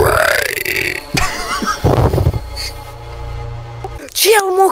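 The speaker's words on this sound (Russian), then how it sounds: "Я ему сейчас отрыжкой скажу" A long, loud burp rolls out up close among casual Russian talk and laughter, with a short vocal squeak near the end.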